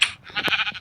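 A sheep in the Minecraft video game gives a single short, nasal bleat, clear and close, with no voices over it.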